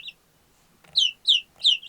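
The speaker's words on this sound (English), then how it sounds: "So This one is your classic Australorp." An Australorp hen clucks on a rural homestead, a faint opening chirp followed by three short, bright calls in quick, evenly spaced succession, close by and alone.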